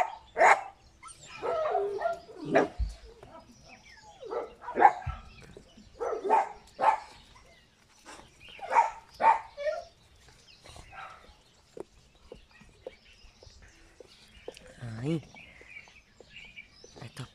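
Dogs barking in short, sharp bursts, repeated several times at moderate distance, with someone talking between and over the barks and faint bird calls in the background.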